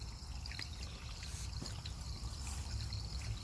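Water fills a Source Aquasource 25-litre hydration tank in a constant, soft trickling rush, fairly faint and steady throughout with no voices.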